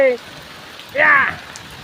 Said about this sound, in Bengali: এই যে বৃষ্টি নামতেছে এখন আমি বৃষ্টির মধ্যে হাঁটতেছি